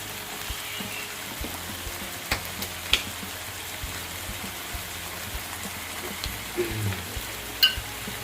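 A spicy Thai stir-fry with thinly sliced stink beans sizzles steadily in a pan, a soft continuous crackle with a few sharper pops and clinks, no talking.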